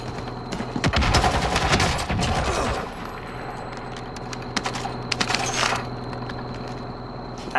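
Gunfire crackles in the Modern Warfare Warzone battle royale game, with a dense burst of rapid shots early on. Scattered, sharper reports follow against a steady background hum.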